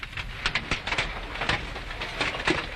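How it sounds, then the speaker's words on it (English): Large hail pounding down during a storm in Romania, a dense, irregular clatter of hard impacts close by, with sharper individual cracks standing out through the steady rattle and no voices. "is that some huge hail or what?"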